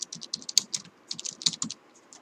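Fingers type on a computer keyboard during a Power BI walkthrough, with quick, irregular clusters of crisp keystrokes close by, pausing briefly between bursts, with no voices over them.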